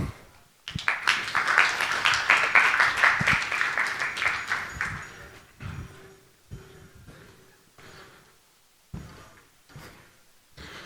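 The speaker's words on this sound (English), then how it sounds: "Let's give a big round of applause for Daniel Komaromy and Laszlo Szapula." Conference audience applause fills a hall for about five seconds, dense and fairly loud, then thins to scattered claps and a few knocks and thumps as it dies away.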